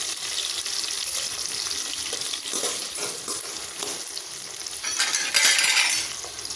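Small shallots sauté in a hot pan with oil for jackfruit seed kulambu, giving a steady close sizzle and frying crackle with occasional stirring scrapes and clinks, louder near the end.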